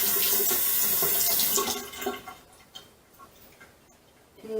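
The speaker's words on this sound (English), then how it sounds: "I'm just going to rinse it off with some cold water." Cold tap water runs and splashes over an aloe vera leaf in a sink, loud at first, then dropping to softer drips and trickles with faint handling noises.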